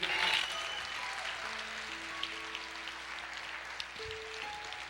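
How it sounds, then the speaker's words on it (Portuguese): A church congregation applauds the Lord during a sermon, with soft steady clapping that sounds faint and distant under a low background drone. "Você pode aplaudir o Senhor"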